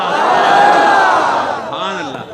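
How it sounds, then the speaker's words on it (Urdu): A large crowd at a religious address in Peshawar roars a slogan in unison, loud and sustained, then breaks into a second shorter shouted reply near the end. "نعرہ تو لگانا"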